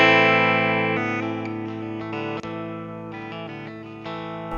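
An effects-laden electric guitar through a rig with an extra layer of reverb plays sustained chords and shifting notes, the tails ringing and blending between changes, loud and clean with no talk.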